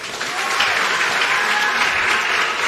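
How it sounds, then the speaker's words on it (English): Studio audience applauding a TV talent show contestant named Joe, steady dense clapping filling the room for a few seconds with no voices over it. "A round of applause for Joe."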